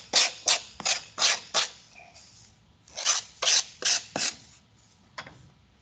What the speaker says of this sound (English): Sanded the basswood away.